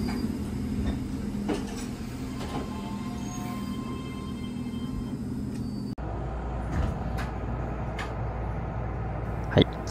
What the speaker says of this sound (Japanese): 9時40分発の電車で次の駅に向かいます